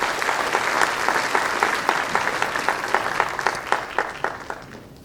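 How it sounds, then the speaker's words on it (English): An in-person lecture audience gives sustained applause for Vice Admiral Krishna Swaminathan of the Indian Navy, a dense patter of many hands clapping that holds steady and then starts to thin toward the end. "A big round of applause for Admiral Swaminathan."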